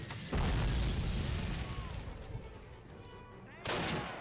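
Call of Duty combat opens with a heavy explosion followed by a rumbling roar of gunfire that slowly fades, then another loud boom lands near the end.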